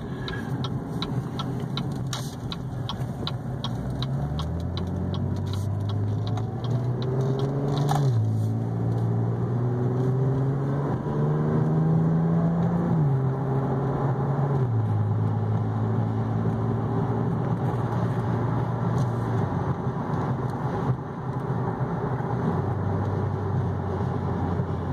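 A 2014 Cadillac ATS RWD V6 cruises at highway speed, and its engine drone shifts pitch steadily under road and wind noise. Light ticking rattles sound inside the cabin during the opening seconds.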